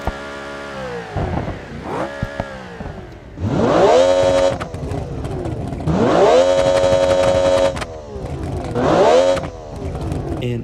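An ETK KC8 TT Sport car in the BeamNG driving game revs hard three times, each pull climbing sharply in pitch, holding high and loud, then dropping back to a lower idle between bursts.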